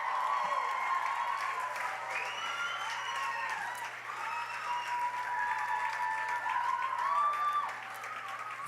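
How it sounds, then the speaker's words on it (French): Audience applauding at a festival programming launch press conference, a steady patter of clapping from a crowd with some whoops and cheers riding over it, lasting several seconds before easing off. "Vous faites bien d'applaudir"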